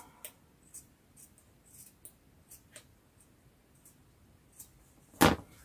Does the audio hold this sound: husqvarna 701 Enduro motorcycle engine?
no